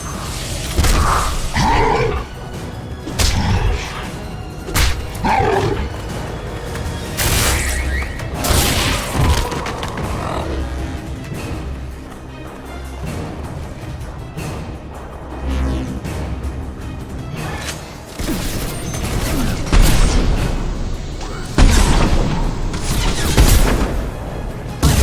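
Continuous heavy gunfire and booming explosions in the sci-fi shooter Mass Effect 2, loud and dense throughout with roaring blasts and thuds layered together.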